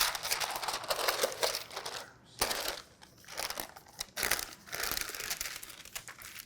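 Plastic wrap crinkles and crackles in close, irregular bursts as it is handled over rolled-out tart dough, with brief pauses between rustles and no talking.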